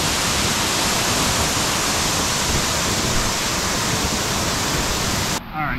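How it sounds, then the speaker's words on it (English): Powerful waterfall after rain in Capiz, Philippines, roaring as a loud, dense, unbroken rush of falling water heard close by, cutting off abruptly near the end. "You get this incredible powerful waterfall right beside you."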